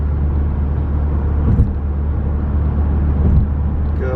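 A car cruises along the highway in sixth gear with a steady, loud low rumble of engine and road noise and a few faint bumps, with no voices.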